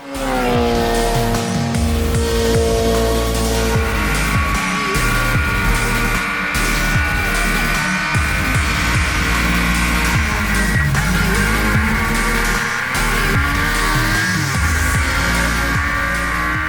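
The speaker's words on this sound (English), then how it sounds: "John McInnes and Aaron Kaufman, their cars are running perfectly" Loud, continuous race car engines roar close by at the Pikes Peak hill climb, with high sustained revving and occasional tire squeal, no talking.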